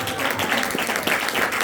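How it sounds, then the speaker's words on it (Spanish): Church congregation clapping their hands together as an offering of praise, a dense steady wash of applause filling the room, with some voices mixed in. "Dele ofrenda de palmas a Dios."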